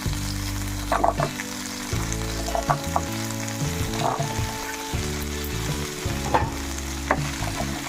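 Tamarind pieces and green chillies frying in a pan, with a steady loud sizzle and occasional stirring scrapes, with no voices.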